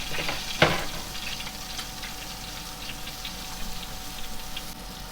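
Onions sizzle in plenty of oil on a griller, a steady low crackle that runs throughout with one sharp clatter near the start; no one speaks.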